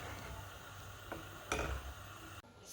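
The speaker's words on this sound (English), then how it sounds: "So we are going to leave it and let it cook in a low heat." Ewa Agoyin pepper and onion sauce simmers on low heat in a pot, a faint, steady sizzle with a few soft ticks and a brief clatter of utensils.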